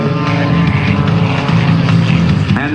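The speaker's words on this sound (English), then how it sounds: "This airplane has nearly twice the power-to-weight ratio of a NASCAR racer with this 400 horsepower Lycon engine" An aerobatic airplane with a 400 horsepower Lycoming engine and Whirlwind propeller roaring loudly and continuously at an airshow at NAS Pensacola, a dense propeller drone with shifting pitch as it passes close.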